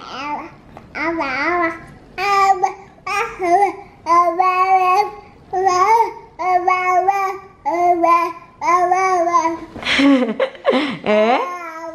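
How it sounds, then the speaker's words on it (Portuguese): A baby babbles strings of repeated syllables in close, clear bursts, with short pauses between phrases and a few higher, more excited squeals near the end. "o bebê fica balbuciando várias letras, várias mãos, várias sílabas"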